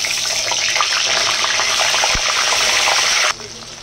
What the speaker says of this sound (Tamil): எண்ணெய் காஞ்ச உடனே கத்திரிக்காய் போட்டு நம்ம வதக்கி எடுத்துக்கலாம்